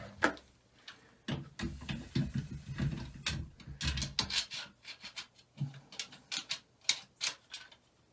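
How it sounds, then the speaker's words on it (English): A big channel-lock wrench working a plumbing bypass fitting gives irregular scraping, ratcheting clicks and metallic knocks in bursts, close and fairly quiet, with no talking. "I'm going to go get a wrench and see if I can turn that with a wrench."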